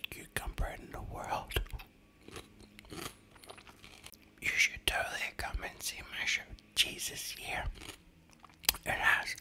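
Cucumber eaten close to the microphone in ASMR style, with crisp bites and wet crunchy chewing scattered among soft whispering.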